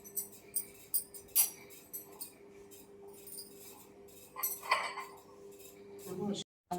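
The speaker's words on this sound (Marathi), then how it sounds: "आता बटाटे कापून झाले माझे हा खलबत्ता खाली ठेवते" A mortar and pestle clatter as they are set down among dishes, with several sharp metallic clinks and knocks near the start and more scraping clatter later, a low hum running underneath.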